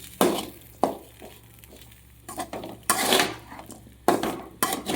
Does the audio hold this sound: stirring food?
yes